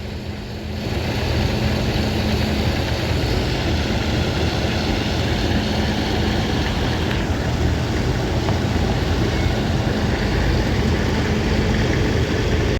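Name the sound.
tractor engine idling to cool down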